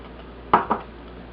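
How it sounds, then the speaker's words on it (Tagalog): Ube halaya mixture stirred in a pan: two quick scraping clinks of a utensil against the pan a fraction of a second apart, close and fairly loud over a quiet background. "hahaluin lang natin mabuti"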